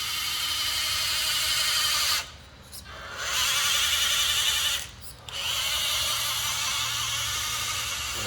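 A Rochobby Katana RC crawler's transmission and motor let out a close, high-pitched electric whine. The whine cuts out briefly twice, then resumes at a steady pitch.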